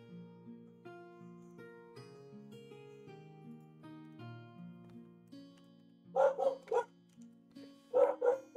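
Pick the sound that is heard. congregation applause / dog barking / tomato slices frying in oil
dog barking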